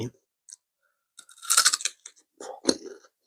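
Crispy food being chewed alongside a Thai fish-curry noodle meal, a few close, crunchy bites in short bursts separated by silence.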